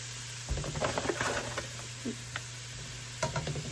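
Cooked, drained hamburger with garlic powder and flour is stirred in a hot pan, giving soft scraping and clinking strokes over a low, faint sizzle, fairly close and fairly quiet.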